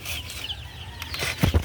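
Egg-laying hens in a chicken coop give brief clucks and a burst of flapping wings, with a louder cluster of close clucking near the end over low background rumble.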